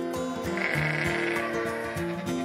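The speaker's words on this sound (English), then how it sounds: "sheep" A sheep gives a long, quavering bleat, near and steady for a couple of seconds, heard alone without voices.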